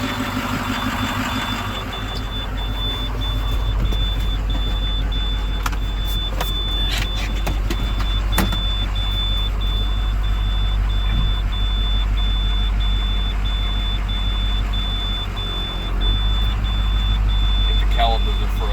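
A 2007 International 4200 truck, recently towed in after sitting unrun for over five years, idles with a steady low engine rumble nearby, while faint beeps and clicks and brief voices come over it.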